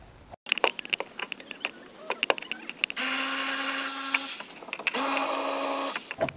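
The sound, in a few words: cordless ratchet removing bolts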